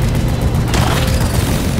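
A deep explosion boom in Deep Rock Galactic, a low rumbling blast that swells partway in and lingers against steady game noise, with no voices.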